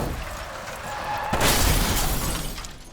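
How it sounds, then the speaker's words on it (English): A full-size car smashes through the glass windows of a building in a film stunt: a sudden loud shattering crash with a burst of breaking glass over a rumbling background, then a fading roar. "they crashed through the windows of the Daily Plaza building"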